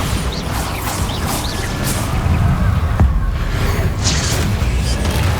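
A loud Bombarda spell blast from the video game Hogwarts Legacy erupts in a dense rumble, with a sharp crack near the midpoint and continuous crashing debris and whooshes.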